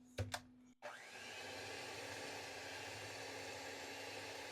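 An electric mixer whips softened butter in a big bowl inside an RV kitchen. A couple of knocks come first, then the motor starts up and holds a steady, even whir.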